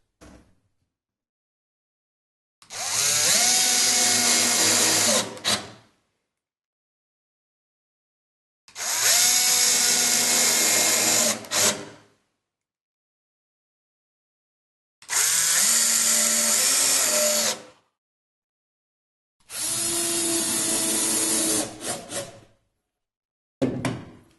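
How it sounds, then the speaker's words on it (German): Power screwdriver driving screws into the next row of a wooden Sela snare cajon kit during assembly, heard as four loud sustained whirring bursts of about three seconds each, separated by pauses, with a brief final burst at the end. "richten das wieder ein bisschen aus und schrauben die nächste Reihe fest"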